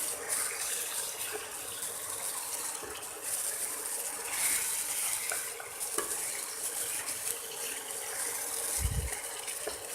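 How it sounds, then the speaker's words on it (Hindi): Chicken fries steadily in a hot pan with garlic-ginger paste and turmeric, with occasional scraping and clinking of stirring, close up and without speech. "अब चिकन को लहसुन अदरक के पेस्ट के और हल्दी के साथ भूनेंगे"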